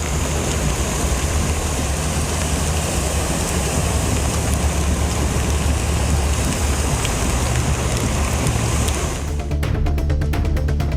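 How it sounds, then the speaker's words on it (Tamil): Heavy rain in Chicago pours down as a dense, loud, continuous roar of falling water for most of the stretch, then cuts off abruptly near the end. "சிகாகோவில் பெய்த தொடர் மழையால் விமான நிலைய சுற்றுவட்டார பகுதிகள் நீரில் மூழ்கின."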